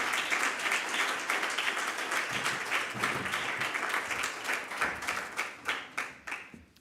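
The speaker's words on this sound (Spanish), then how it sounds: "Otro aplauso, por favor." Audience applause at a poetry book presentation for a Day of the Book event: dense sustained clapping from a room full of people that thins into fewer, distinct claps toward the end.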